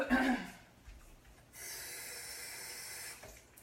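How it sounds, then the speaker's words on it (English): Tap water running into a container of oats, a steady faint stream starting midway and flowing evenly for about two seconds after a brief burst of breath or movement at the start. "Looks like we need some more water in these oats."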